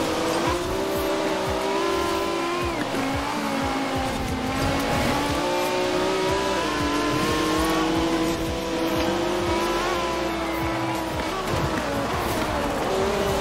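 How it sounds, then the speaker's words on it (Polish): A BMW drifts in Forza Horizon 4, its engine revving hard and continuously under long, wavering tire squeals, loud and close for the whole stretch. "I drift, oczywiście, bo to BMW, to musi."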